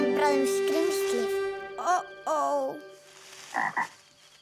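A cartoon frog croaks several times, with long droning tones and short bursts that fade toward the end. Voices from the cartoon are heard.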